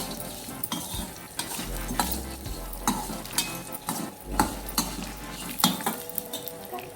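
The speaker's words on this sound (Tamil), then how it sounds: "வெங்காயம் நல்லா கலர் சேஞ்ச் ஆகிற வரைக்கும் வதக்கி விட்டுக்கலாம்." Onions sauté in a pan for chicken kola urundai, sizzling steadily up close while a spoon stirs and scrapes against the metal in repeated clinks and knocks.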